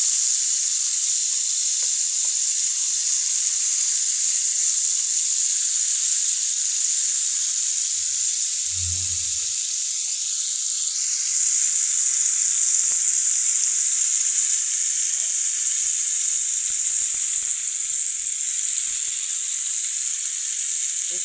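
Peeled pointed gourd (potol) slices fry in hot oil in a pan, giving a steady, bright, continuous sizzle that holds evenly for the whole stretch, with a brief low knock partway through.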